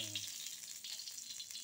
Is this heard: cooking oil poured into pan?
yes